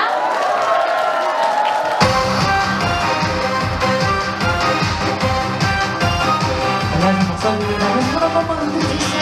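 A crowd at an outdoor market stage show cheers and applauds as a trot singer known for playing the janggu drum is introduced, a dense, sustained roar that swells suddenly and stays loud.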